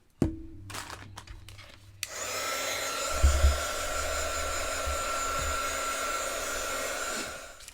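Hair dryer switched on to dry acrylic paint on an art journal page: after a few handling clicks, a steady loud blowing whir runs continuously, close by, with brief shifts as it moves, then cuts off.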